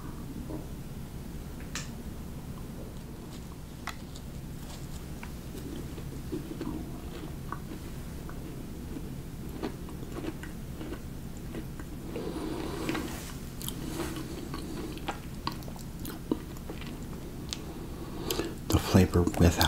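A crunchy UK cookie dipped in coffee is bitten and chewed up close in soft, scattered crisp crunches and clicks, with quiet whispered talk in between.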